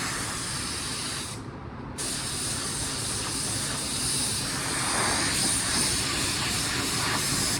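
A cheap $16 spray gun sprays sealer onto a car with a continuous loud hissing rush. A brief pause in the spray comes early on, then the steady spraying resumes.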